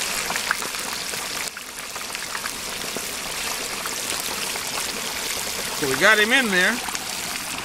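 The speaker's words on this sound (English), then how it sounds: "that's water draining from the turkey, plus it's in hot oil" A whole turkey deep frying in hot oil, a continuous bubbling, trickling hiss as water boils off, heard under someone talking nearby.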